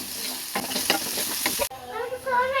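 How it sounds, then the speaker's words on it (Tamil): Onions with salt sautéing in a pan for a potato and maida snack filling, sizzling loudly and close with quick stirring scrapes throughout. "இப்போ அதையும் சேர்த்து நல்லா வதக்கி விட்டுடுவோம் வெங்காயம் நல்லா வதங்கி வந்து வரட்டும்"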